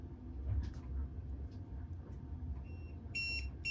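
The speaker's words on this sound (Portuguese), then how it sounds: "acabamos de testar o Man Overboard. Olá, alarme e olha lá." A man overboard alarm aboard a sailboat sounds in short electronic beeps near the end, a cluster of bright repeated tones over low background hum after faint voices.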